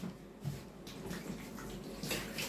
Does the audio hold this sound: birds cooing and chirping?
no